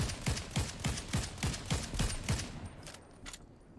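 Rapid automatic gunfire in Fortnite Zero Build, a steady run of about a dozen evenly spaced shots, loud and close, thinning out into a few scattered shots near the end.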